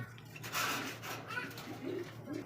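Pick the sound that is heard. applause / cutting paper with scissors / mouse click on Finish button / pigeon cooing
pigeon cooing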